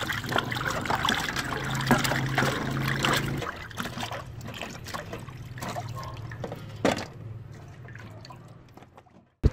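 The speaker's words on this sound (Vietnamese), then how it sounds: "Rồi tiếp tục mình sẽ xả nước vô rửa lại hai nước hoặc rửa đến khi thấy nước trong là được." Tap water runs and trickles as chicken feet are rinsed in a kitchen, a splashy, dribbling flow with occasional drips and clatter, quieter and sparser toward the end.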